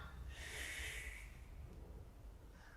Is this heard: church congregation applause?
no